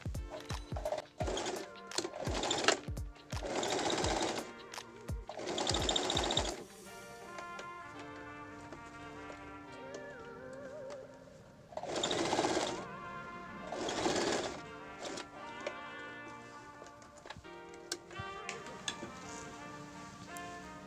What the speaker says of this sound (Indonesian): kita jahit lapisannya itu dari luar dulu